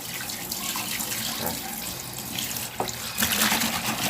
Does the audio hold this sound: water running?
yes